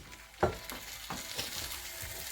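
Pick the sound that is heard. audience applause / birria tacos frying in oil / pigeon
birria tacos frying in oil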